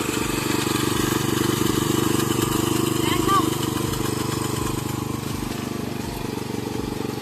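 A farm machine engine working in muddy paddy fields runs loud and close with a steady droning hum and a low rhythmic thump, while someone talks over it.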